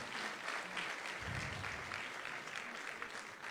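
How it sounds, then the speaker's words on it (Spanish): An audience applauds at a book fair talk in Puebla. The sustained, even clapping is faint and distant throughout. "denle doble aplauso porque ya subió otro escalón"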